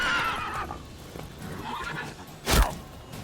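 A horse in The Witcher 3 gives a short whinny at the start and a sharp snort later, with soft hoof clops between them, close and fairly quiet.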